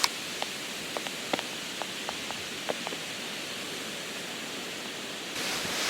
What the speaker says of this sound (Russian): Ну, смотрите, какой ветер.